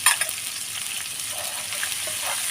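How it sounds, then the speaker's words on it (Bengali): Spices for a dried fish and drumstick curry fry in a pan, giving a steady, close hiss of bubbling oil with faint stirring and no talk. "এই মশলাগুলো আমি অল্প কিছুক্ষণ ভেজে নেব"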